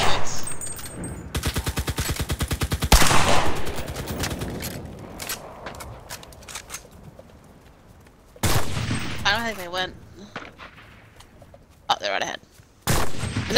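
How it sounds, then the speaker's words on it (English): Rapid bursts of automatic gunfire from a player's weapon in an Xbox One survival shooter, dense volleys followed by a pause and later sharper shots, with voices talking over parts of it. "Is that you firing?"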